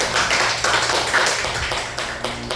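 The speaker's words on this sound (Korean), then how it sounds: "남의 일이라고 좋아서 박수 치지 마" A congregation applauds during a missionary's talk in church: a burst of scattered, irregular claps from a nearby crowd, loud at first and thinning out over a couple of seconds.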